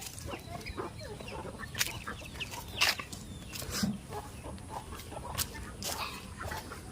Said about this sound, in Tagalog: nakakulong ang aming itik